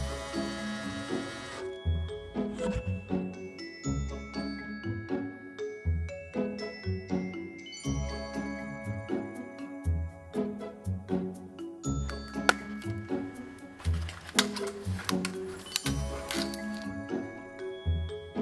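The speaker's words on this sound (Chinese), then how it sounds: "开始打印吧" A 3D printer printing a Hollow Knight speaker stand makes a busy run of rhythmic stepper-motor whines and buzzing tones, close up, in repeating pulses with brief pauses, with no talking.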